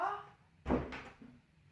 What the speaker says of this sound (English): That was us. We shut the door